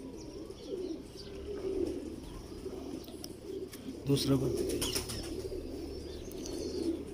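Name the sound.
pigeons cooing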